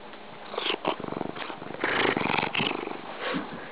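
A cat purrs close by in a soft, rhythmic rumble with audible pulsing breaths, swelling and fading over a few seconds.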